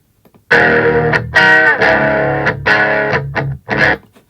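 Crunchy distorted electric guitar, using a GarageBand iOS amp tone, plays a choppy riff of chords, loud and close, with short stabs and sustained strums.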